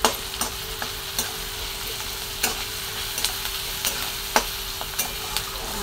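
Eggplant, potato and onion sautéing in a pan with garlic, mustard seeds and cumin, a steady close sizzle punctuated by regular sharp taps and scrapes of the stirring spoon.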